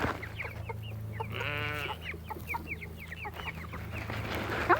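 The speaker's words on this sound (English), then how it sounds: "Start throwing bugs, and all the chickens that come a running." Chickens cluck and chatter close by while feeding on black soldier fly larvae, with short repeated calls scattered through the clip and a brief rising squawk partway in.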